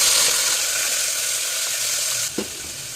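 Chopped shallots frying in hot oil with popped mustard seeds in a cooker, giving a loud, steady hiss that drops off abruptly near the end, followed by a brief clunk.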